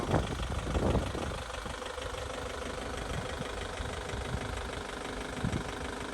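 A 2012 Chevrolet Captiva engine idles steadily and smoothly at close range, a low even rumble with no voices.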